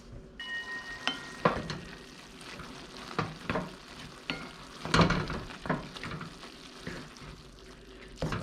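Soy sauce filling cooking in a covered pan gives a constant sizzle and frying crackle, with occasional louder pops and spoon clinks against the pan.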